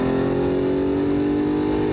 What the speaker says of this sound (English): So now it's warm, we can really step on the gas.